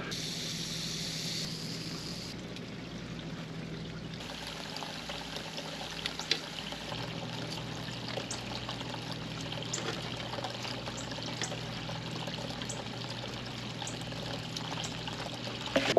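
Poffertjes batter trickles and dribbles from a spout into the hot dimples of a Vevor poffertjes cooker, a thin steady pouring stream over a low background hum with small clicks, no talk.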